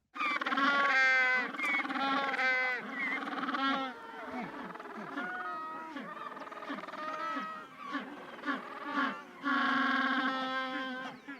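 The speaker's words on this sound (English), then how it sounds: "a male and a female that have come back to their nest and are greeting one another" Two penguins, a male and female pair at their nest, trade loud, braying greeting calls back and forth at close range, rising and falling in bursts, with a voice speaking briefly between them.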